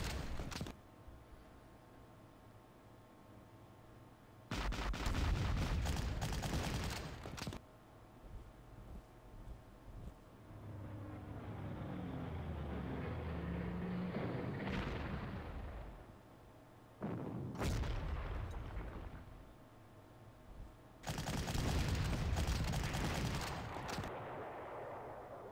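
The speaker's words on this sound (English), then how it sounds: "This heavy artillery piece would wreck them." Heavy artillery fire in the Panzer Corps World War II strategy game, with several loud booming salvos separated by pauses and a rumbling, whooshing shell sound between them, no voices present.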